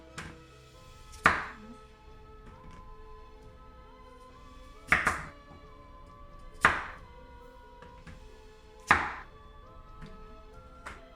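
A knife cutting turnip into pieces on a board for couscous, four sharp chopping thunks spaced a second or more apart, close and clear with no talk.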